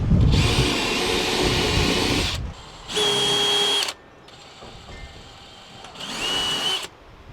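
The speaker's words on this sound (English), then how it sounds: "Right now he's drilling the pilot hole." A power drill whines loudly boring a pilot hole in a shipping container, in three separate bursts, the first long and the later two shorter, with quieter gaps of ambient noise between.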